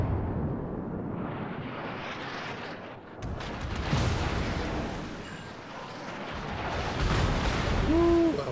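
A British Tier-8 battleship, HMS Vanguard, firing HE shells in World of Warships: a continuous heavy rumbling roar with a sharp boom midway, dense explosive low-end throughout, loud and close.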